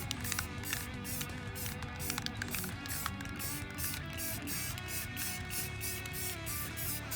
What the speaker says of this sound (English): The pieces in the top left corner are getting sprayed with a tan camo color